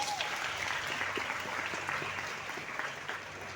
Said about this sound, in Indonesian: nah berikan aplaus dulu